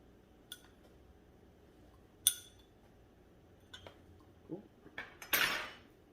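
A metal bar spoon clinks against a serving glass while brown sugar is added for an Irish coffee, scattered sharp ticks and taps close up, ending in a brief scraping rattle of granules.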